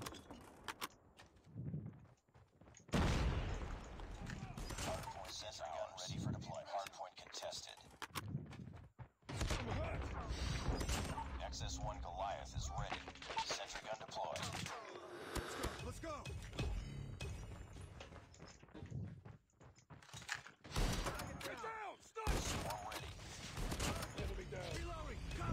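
Heavy, booming shots from a ZRG 20mm sniper rifle in the mobile shooter Call of Duty Mobile ring out loud and sparse amid game effects and announcer callouts, while a player talks over the action.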